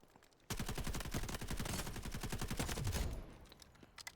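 A rapid burst of automatic gunfire from a Bizon submachine gun in the video game Delta Force, firing continuously for about two and a half seconds, close and loud, then fading into quiet.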